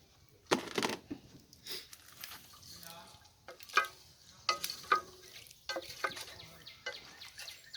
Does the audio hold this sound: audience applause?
no